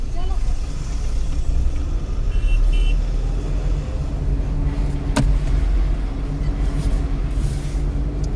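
A car engine idles and rumbles steadily inside a vehicle during heavy rain, a loud, close, low drone that persists throughout while people talk over it.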